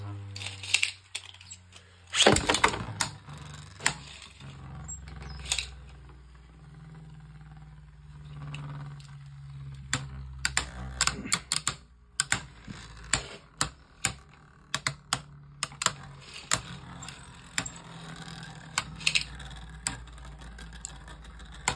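Beyblade Unicrest spinning in a stadium after launch, with sharp clacks and rattling scrapes scattered irregularly over a low whir, loud and close, with occasional quieter gaps.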